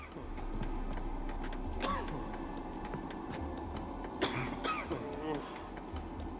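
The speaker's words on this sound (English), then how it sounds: "Someone coughing in the corner" A ghost coughing in the corner in Witcher 3 Next-Gen on PC, a few short coughs heard twice over a low ambient game background.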